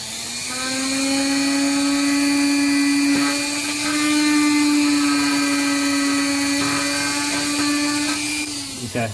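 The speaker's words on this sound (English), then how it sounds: "I got a sanding tool, and I know there's probably better tools to do this with" A steady high-pitched whine of a power sanding tool on a bathroom ceiling fan exhaust cover runs nearly nonstop, close and loud, with slight dips in pitch before winding down at the end.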